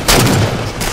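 Loud, close gunfire in Halo 4, a dense burst of rapid blasts with heavy low boom that fills the whole short moment.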